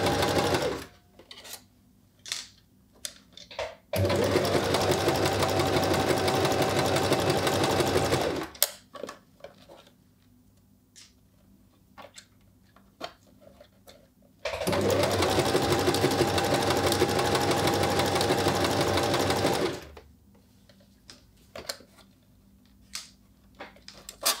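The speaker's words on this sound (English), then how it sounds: "I'm going to continue to do my zigzag stitches on all three edges" A sewing machine runs zigzag stitches along the edges of a bachelorette party veil in two steady bursts of about five seconds each, separated by quiet stretches with faint handling clicks.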